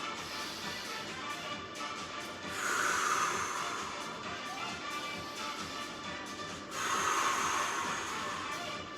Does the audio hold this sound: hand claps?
no